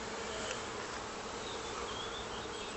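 Dense, steady buzzing of many honeybees swarming close around an opened beehive and a beekeeper's bonnet, a continuous loud drone with no pauses.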